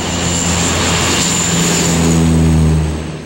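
Propeller airplane engine droning steadily and loudly close by, a sustained low hum with a whining tone above it, swelling slightly toward the end, on a flight to the Matsu islands.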